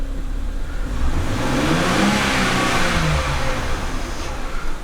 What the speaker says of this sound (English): I'll rev her up